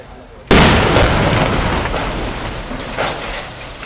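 A 120 mm artillery shell explodes during an assault on a fortified area in Jobar, Syria: one sudden, very loud boom after a brief quiet, followed by a long rumbling, crackling tail with a smaller burst near the end.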